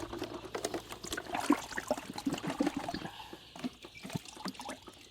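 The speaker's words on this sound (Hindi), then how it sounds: "भैया, ये पानी हम इसमें खाली कर लेते हैं। थोड़ा ठंडा पानी है ये" Cold water being emptied out into a container on a poultry farm, with a splashing, trickling pour running unevenly throughout, fairly close and moderately loud, with no talking.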